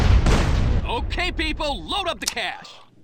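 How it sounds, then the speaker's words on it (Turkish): A loud in-game explosion in GTA San Andreas bursts at the start and decays over about a second, followed by someone talking excitedly. "Patlıyor lan!"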